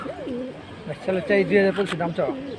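A high-flying pigeon held in hand at a pigeon market coos in soft, repeated rolling phrases, close and fairly loud, with a voice talking in the background.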